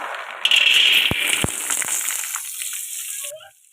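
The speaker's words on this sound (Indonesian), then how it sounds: "segini aja udah bisa untuk goreng kacang" Peanuts fry in a small amount of hot oil, giving a steady close sizzle with a few sharp clicks from stirring. The hiss fades out near the end.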